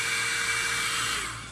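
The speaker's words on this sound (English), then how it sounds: "It's a little mini portable dryer, hair dryer." A mini portable hair dryer blows hot air onto craft wax, a steady close whooshing whir with a faint motor whine that begins to trail off at the end, no talking.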